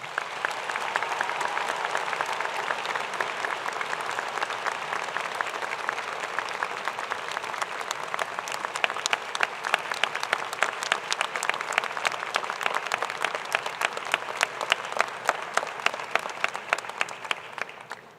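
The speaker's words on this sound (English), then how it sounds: "Please join me in thanking him with a round of applause." A large audience at a high school graduation ceremony gives a sustained round of applause, dense steady clapping throughout that grows slightly sharper and louder toward the end, with no talk over it.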